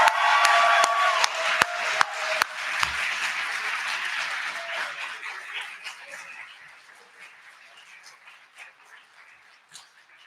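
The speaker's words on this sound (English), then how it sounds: "let's cheer for them" An audience at a collegiate ethics bowl championship applauds and cheers for teams coming up to receive trophies, a dense burst of clapping that gradually thins and fades to scattered claps by the end.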